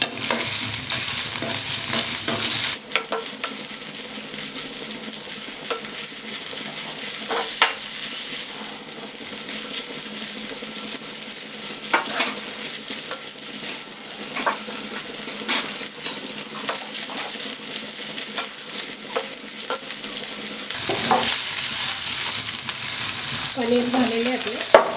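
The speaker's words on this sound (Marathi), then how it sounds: "आपण कढईत तेल गरम करायला ठेवलं आहे। त्यात आपण थोडे गरम झालेले आहे पनीर पहिल्यांदा फ्राय करून घेऊ।" Paneer shallow-fries in hot oil in a kadai with a constant loud sizzle, broken by occasional clinks and scrapes of stirring, and the hiss swells noticeably at the start and the end.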